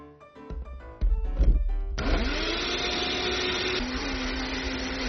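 Blender whirring as it purées cucumber and melon into a drink, starting after a few clunks of setup, then a loud steady motor roar that shifts pitch partway through as the contents break down.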